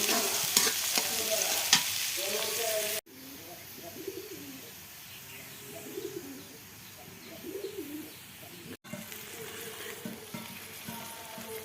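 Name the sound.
spice paste frying in hot oil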